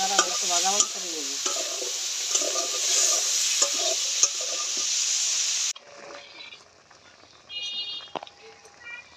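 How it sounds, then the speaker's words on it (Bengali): Boiled grains being fried in a pan with fish for a vegetarian pithali dish, steady close sizzling with clinks and scrapes of stirring, fading abruptly to quieter kitchen clatter near the end. "দানাগুলো একটু ভাজা ভাজা করে নেব"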